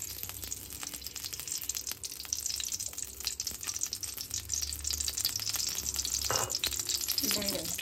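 Mustard seeds and cumin sizzle and crackle in hot oil in a home kitchen, giving a steady frying hiss dotted with sharp pops, followed near the end by a short splash and clatter.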